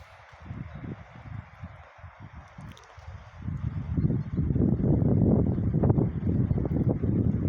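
Gusty wind buffets the microphone in a snowy village in winter, a low rumbling roar that builds and becomes steady and loud in the second half, with no voices.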